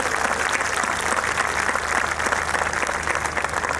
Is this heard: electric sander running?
no